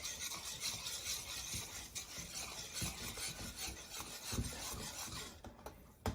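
A whisk beating eggs, corn oil and sugar in a bowl, a steady close scraping and swishing rhythm with quick repeated strokes, quiet and continuous.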